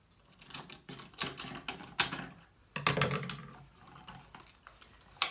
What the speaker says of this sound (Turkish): Şimdi buradan bir parçayı daha makasla kesiyorum.